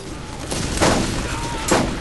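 Bursts of gunfire aimed at the player in Borderlands, two loud shot clusters about a second apart over a steady noisy game background.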